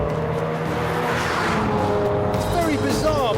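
Cars racing flat out on the Nürburgring race circuit, with a Passat diesel estate fitted with a tow bar overtaking, give a steady loud engine roar close by. A brief tyre squeal comes near the end.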